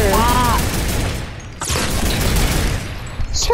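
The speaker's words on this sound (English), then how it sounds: "I killed him with the turret sniper" Sniper turret gunfire in the Fortnite video game, a dense run of loud game shots and blasts filling the moment, with a sharp burst near the middle and a player's voice faintly under the action.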